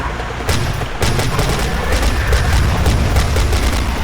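Rapid video-game gunfire from the dinosaur shooter Dino Strike crackles in a dense, continuous volley of sharp shots over loud background game noise.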